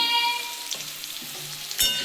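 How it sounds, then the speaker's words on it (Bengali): A fish head fries in a pan with added chili, giving a close, steady sizzle. Light stirring clatters through it and a sharper burst comes near the end. "দেখুন বন্ধুরা আমার মুড়োটা ভাজা হয়ে গেছে"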